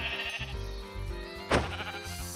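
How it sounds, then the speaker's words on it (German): Sheep in the video game Minecraft give a few short bleats over soft background game music, with one sharp click or thump partway through. "Ganz schön viele Schafe hier"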